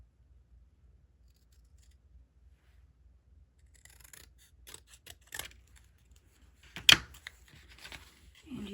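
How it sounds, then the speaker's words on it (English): Scissors snip through paper while an origami shirt is being cut out: after a few silent seconds come quiet, close, irregular cuts, then one sharp louder snip near the end. "if you have long handled scissors, or long bladed scissors, it's the best thing"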